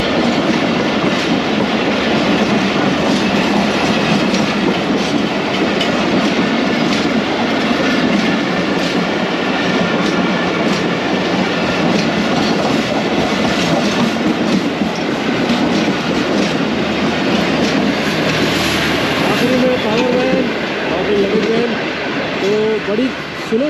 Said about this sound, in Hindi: this train is 45 up Pakistan Express